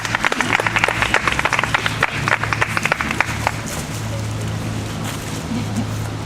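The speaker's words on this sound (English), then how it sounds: "Give them a hand clap, please." A crowd applauds with dense clapping that fades into a softer wash of noise, heard from within the audience.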